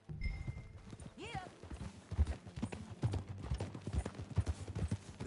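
Horse hooves clip-clop in Red Dead Redemption 2, a steady uneven plodding close by, with a brief whinny near the start and occasional talk over the riding.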